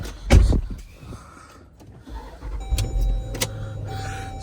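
A car, just unloaded from a trailer, cranks and starts up close by, preceded by a thump and mechanical whirring, then settles into a steady idle with some tonal whine.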